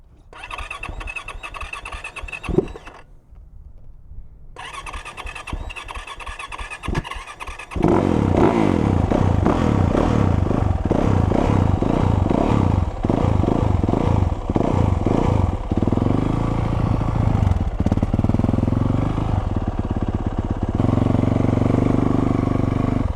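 A dirt bike, Yamaha YZ450 or Honda CRF, is started with a few catches and bursts, then roars loudly and rides off, its engine revving hard and steadily up close.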